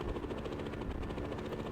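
Helicopter rotor chopping in the video game We Ski and Snowboard, a steady rapid thumping beat heard at moderate distance and fairly quiet, with no voices.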